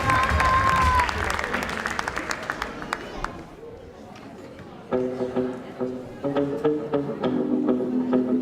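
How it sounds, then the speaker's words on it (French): An audience claps and cheers as a comedian takes the stage at a live show in Aubervilliers, the applause surging, fading, then swelling again, with a voice speaking over it and music playing. "Applaudissez"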